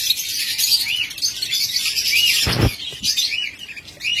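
Pet lovebirds and cockatiels chirp continuously in a busy cage setting, a dense overlapping stream of high tweets with a brief louder flutter or knock partway through.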